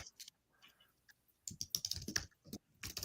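Quiet computer keyboard typing in uneven bursts of clicks, close and faint, with short pauses between runs of keystrokes and no talk.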